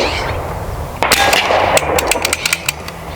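A shot from an AEA Terminator .30 caliber air rifle at an outdoor target range, a loud sharp crack followed by a string of quick metallic clinks and ticks.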